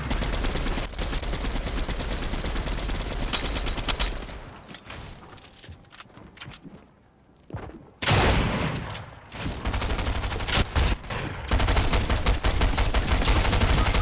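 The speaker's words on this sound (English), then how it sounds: "Keep shooting through the wall." Dense, continuous weapon fire in the Fortnite video game, sustained rattling bursts that drop away briefly mid-fight and then return loud and heavy, with no speech over it.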